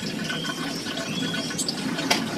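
Tap water runs steadily while peeled cassava is washed in a kitchen, a continuous hissing splash at moderate level with a brief clatter near the end.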